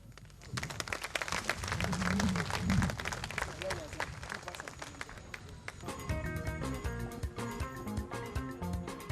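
Audience at an award ceremony clapping in a long, steady patter of applause, with music and sung voices coming in over it partway through.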